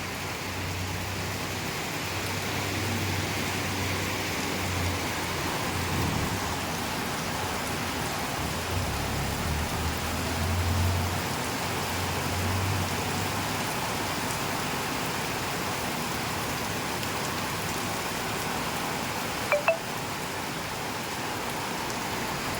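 Steady rain pouring down outdoors after a hot, dry spell, a dense even patter with a faint low rumble early on and a brief sharp knock near the end, with no voices.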